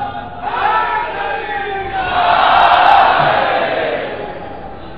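A large crowd at a gathering shouts a slogan in unison, the massed voices surging to a loud peak midway before easing off.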